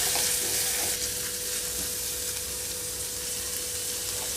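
Onion pieces frying in oil over a medium flame for a white chickpea curry, a steady close sizzle with a soft crackle throughout, loudest at the start and then settling to an even hiss.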